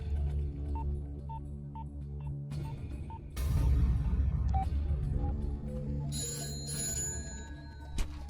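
Short, evenly spaced dialing tones sound on a telephone in a Hindi film scene, followed by a louder burst of noise and then a steady ringing tone near the end.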